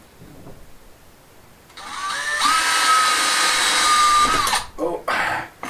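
A power drill drives screws into a fixture during work on an outdoor courtyard, a rising whine that holds steady for a few seconds before cutting out, close by, with people talking around it.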